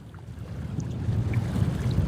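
Wind blows across a rocky lakeshore in a low, buffeting rush that swells toward the end, with gusts striking the microphone close by.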